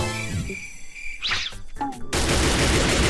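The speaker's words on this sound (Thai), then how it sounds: "ยิงปืน" Rapid gunfire bursts in Minecraft, a Thai prison-escape prank game: a short voice sound and a few tones give way to a loud, dense rattle of shots that fills the final second.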